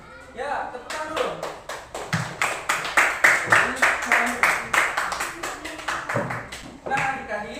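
Children clapping in a classroom, joining in a quick, rhythmic burst of claps that keeps an even patterned beat, with voices before and after.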